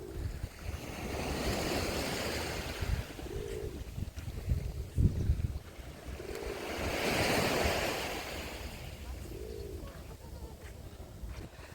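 Waves wash onto the shore at Odesa on the Black Sea, swelling and receding in slow surges, while nearby pigeons coo in short repeated phrases over the surf.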